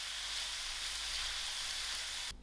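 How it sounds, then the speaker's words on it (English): Green beans sizzle steadily in a pan over low heat, a bright continuous hiss, then cut off abruptly near the end. "the green beans have been frying on a very low heat"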